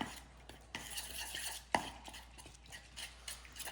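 Sourdough starter being stirred into water, likely in a bowl or jar: a run of light scraping and clinking strokes at close range, with one sharper knock partway through and no talking.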